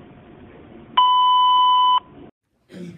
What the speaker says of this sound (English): I don't want to hear an answering machine anymore